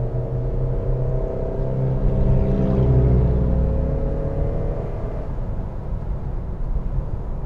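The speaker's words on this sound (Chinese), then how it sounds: "加速看一下啊" A 2013 ninth-generation Honda Civic 2.0 accelerates, its engine rising in a steady droning whir with road rumble, heard from inside the cabin without speech.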